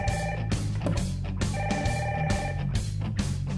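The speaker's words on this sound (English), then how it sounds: "never miss a call with the ringtone feature" A 20-volt max Bluetooth jobsite radio plays a phone ringtone, a bright electronic ring repeating in regular bursts about every half second, close and clear with no talk.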